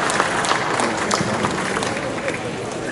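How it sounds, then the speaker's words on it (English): Applause and crowd noise at a post-fight press conference for Mayweather vs McGregor, a dense patter of clapping at steady volume, mixed with a murmur of voices. "Big round of applause for 2 classy gentlemen."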